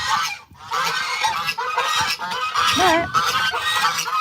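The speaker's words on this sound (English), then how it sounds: "I have a goose sitting on eggs" Geese on a Texas ranch honk loudly and repeatedly, their harsh calls crowding together and nearly continuous, with a short pause near the start; a brief spoken word comes through once.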